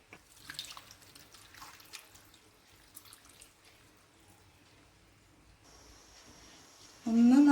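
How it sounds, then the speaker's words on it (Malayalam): Water poured into a cooking pot holding clams and raw banana, a soft running splash that starts faintly and swells louder near the end. "ഇനി നമുക്ക് ഇത് വേകാൻ ആവശ്യമായ വെള്ളം ചേർക്കാം"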